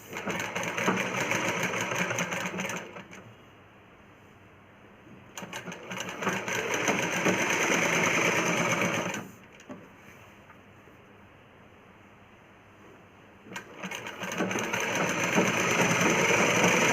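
A sewing machine stitches around a blouse collar in bursts, running loud and close for several seconds at a time with quieter gaps between runs, with no voices.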